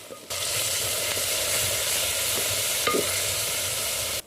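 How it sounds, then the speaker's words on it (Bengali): Ginger garlic paste fried with cloves, cardamom and cinnamon in a pot for handi chicken, a loud continuous sizzle starting abruptly, with soft scraping stirs of a spoon now and then. "আদা রসুনের পেস্টটা দেওয়ার পর আমি আবারও নেড়ে চেড়ে নিচ্ছি।"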